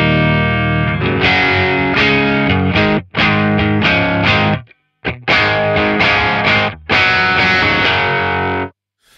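A Stratocaster electric guitar plays chords through a Kraken distortion pedal alone, loud and saturated, several strummed phrases cut by short silences.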